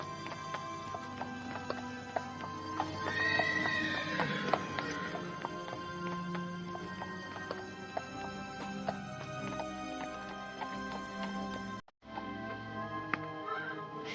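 A horse-drawn carriage departs with hooves clip-clopping at a steady rhythm, heard under music and continuing until an abrupt cut near the end.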